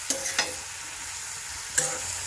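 Moringa leaves being stirred in a pan as a stir-fry, with a few distinct spatula scrapes against a faint, steady sizzle and no talking.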